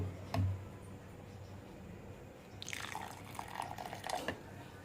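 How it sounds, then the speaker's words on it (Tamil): Water poured onto freshly ground coconut in a mixer jar while making coconut milk, a brief trickling splash after a quiet stretch, close and fairly soft. "இப்போ நம்ம இதை ஓப்பன் பண்ணி கொஞ்சம் தண்ணி சேர்த்துக்கலாம்."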